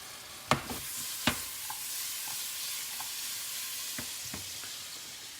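Bananas and French toast frying gently in a pan over low heat, a steady soft sizzle with a few sharp clinks of a utensil against the pan early on and faint taps later.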